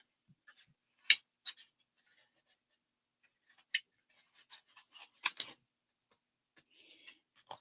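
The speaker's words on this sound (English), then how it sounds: "I'm just going to cut around here" Scissors snip around a card image in short, quiet cuts that come in small irregular clusters separated by pauses, with one sharper louder snip partway through.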